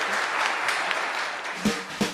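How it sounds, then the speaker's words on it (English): An audience applauds a senator and two authors at a talk event: a soft, steady spread of clapping heard from some distance, with a couple of louder nearby claps near the end. "please join me in giving a round of applause"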